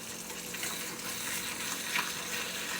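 An egg fries in a pan for a breakfast sandwich, giving a steady, even crackling sizzle that stays close and moderately loud throughout, with no talking.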